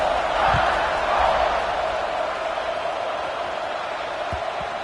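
Football stadium crowd at a college game roaring at kickoff, a broad, sustained wall of cheering with a few thuds, heard without talk.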